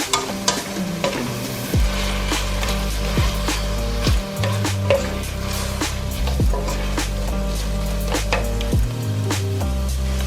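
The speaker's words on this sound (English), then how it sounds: "Saute for another 2 minutes." Collard greens sautéing in a pan, a continuous close sizzle with repeated scraping stirs and the occasional clatter of a utensil, heard without any talking.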